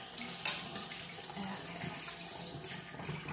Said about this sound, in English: let me just wet my hands with cold water real quick.